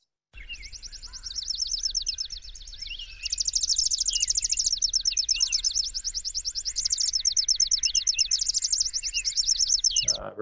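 Birds sing steadily through the dark of night, a dense run of high chirps and trills lasting the whole stretch, with a yellow-breasted chat calling in the background and faint insect buzz beneath.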